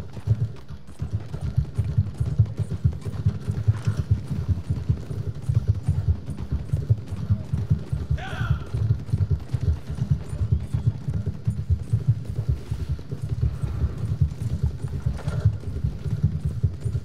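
Horse hooves clip-clop in Red Dead Redemption 2, a loud, close and steady galloping rhythm that runs continuously with a dull low throb and no talking.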